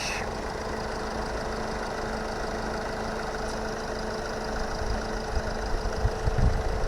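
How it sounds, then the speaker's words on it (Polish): Kia Ceed with a CRDI diesel engine and chain-driven timing, idling steadily on a dealer's lot; an even, continuous low rumble with a faint diesel clatter, heard close and without talk. "Dobry silnik."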